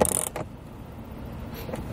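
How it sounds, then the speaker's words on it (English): A ratchet tightens a nut on a Lippert baggage door turn latch, giving a quick burst of close mechanical clicks at the start, then a few faint ticks over quiet room noise. "I'm gonna come back with the ratchet and give it a couple turns."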